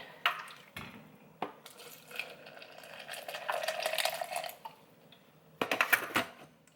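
Water pours steadily for a couple of seconds, framed by clinks and handling noises from a cup or container nearby.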